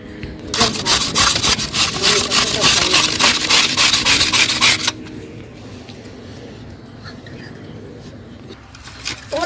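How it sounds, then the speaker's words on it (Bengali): Raw green mango is grated by hand for chutney, a rapid run of rhythmic rasping strokes for about five seconds, then stopping, leaving quiet room sound with faint birds. "এবার আমি আমটা ঘষে নেব, আমটা ঘষে চাটনি করব।"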